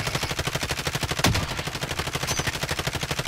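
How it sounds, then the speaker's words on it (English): Rapid automatic gunfire in Call of Duty: Modern Warfare, a steady fast rattle of close shots repeating about a dozen times a second, loud and uninterrupted, with one sharper blast partway through. "Stop shooting, Gav."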